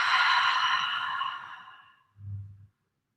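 One long, deep exhale during a yoga breathing exercise, a close, breathy whoosh that slowly fades over two seconds, then a short low hum at the end.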